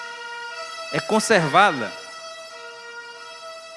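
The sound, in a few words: fire engine siren passing outside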